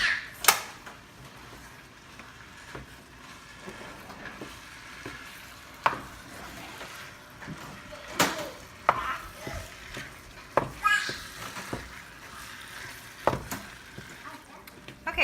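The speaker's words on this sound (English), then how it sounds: "And then just give it a stir." Cheeseburger macaroni mixture being stirred in a sizzling pan, a soft, steady frying hiss broken by repeated scraping and clacking of the spoon against the pan, fairly close and moderately quiet.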